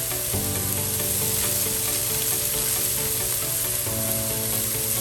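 A pot of carrot ginger chicken noodle stew with freshly cracked black pepper gets stirred, giving a steady sizzling, scraping wash that runs unbroken under background music.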